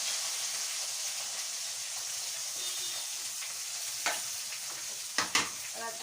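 Cumin, mustard seeds, fenugreek and green chilli sizzle steadily in hot oil while being tempered for Marathi besan saag, with a few sharp stirring scrapes near the end and no talk.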